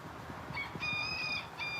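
Chickens inside a chicken house giving a few short, faint squawking calls and clucks, quiet and slightly distant against a low background rumble.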